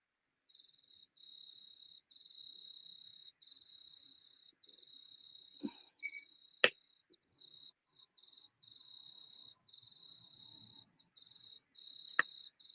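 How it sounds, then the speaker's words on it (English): Crickets chirp outdoors in a steady, continuous high trill broken by brief pauses, fairly faint, with a few sharp taps and knocks standing out nearby. "I hear crickets."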